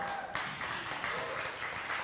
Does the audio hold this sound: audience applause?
yes